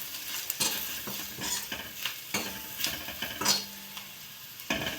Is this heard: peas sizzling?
yes